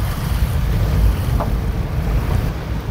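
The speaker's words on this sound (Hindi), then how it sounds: "बारिश काफ़ी तेज़ हो गई है" Heavy rain drums steadily on a car climbing a hill road on a rainy drive from Timergara to Chakdara, with water on the road, a dense continuous roar of downpour and road noise throughout.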